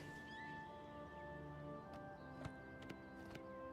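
Horse hooves clip-clopping in Oblivion Remastered, a few sharp, spaced hoof strikes over a steady game ambience and music.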